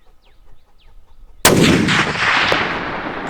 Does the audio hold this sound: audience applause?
no